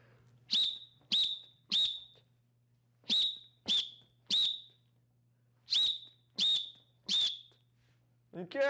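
A series of short, sharp whistle blasts in a karate class, mostly in quick pairs and triples, loud and clear over a low steady hum.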